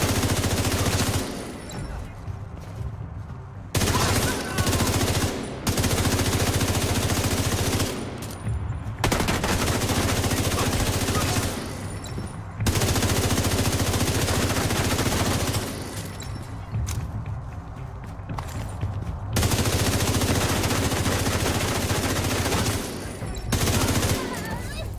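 Sustained bursts of automatic gunfire from the video game The Division, set in Brooklyn, rattling loudly in long volleys broken by brief pauses throughout.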